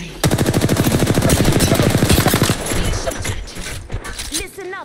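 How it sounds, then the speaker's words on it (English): Rapid automatic gunfire in the battle royale game Apex Legends on the Olympus map, a loud, dense burst of evenly spaced shots lasting over two seconds, followed by scattered clatter and a voice speaking. "I'm getting shot at."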